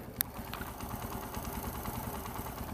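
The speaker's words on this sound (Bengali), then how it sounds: "এখন আপনারা ইঞ্জিনের সাউন্ডে শুনুন" A motorcycle engine idles steadily after an RPM adjustment, a low, even running hum with a faint rhythmic pulse and a light ticking, close and continuous with no talk.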